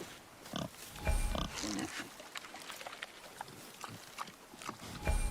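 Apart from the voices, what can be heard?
wild boar grunting in the video game God of War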